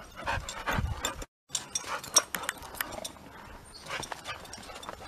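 Scuffling animal sounds, panting and short bursts that could be a dog's barks or growls, close by, with a brief gap of silence early on, as dogs meet horses for the first time.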